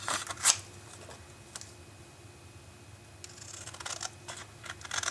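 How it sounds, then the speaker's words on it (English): Scissors snip through cardstock for handmade card making, with a sharp cut early on and a cluster of soft, close snips and paper rustles near the end, quiet and with no voice. "I'm going to go ahead and do just a little bit of cutting so you can see what I did here"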